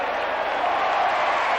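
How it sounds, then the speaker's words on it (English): A big crowd at an Australian rules football match roars and cheers as a steady, dense wash of noise, moderately loud and continuous, with no break. "Listen to the crowd."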